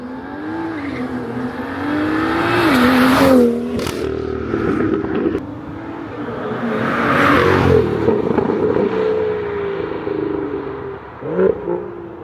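A BMW M2 drives under hard throttle, its engine climbing through the revs with gear changes and short lifts, loud and close from inside the car.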